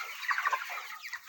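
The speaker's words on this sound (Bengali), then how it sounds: "এখানে 1000 ব্রয়লার মুরগি আছে।" A flock of about a thousand 26-day-old broiler chickens clucks on a poultry farm, with steady overlapping calls close by for a short stretch and no talking.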